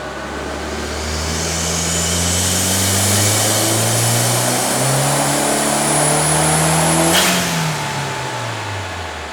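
Mk1 Audi TT engine revving hard on a dyno, a loud close roar climbing steadily in pitch through the gears, then a sharp shift and the revs falling away; no talking.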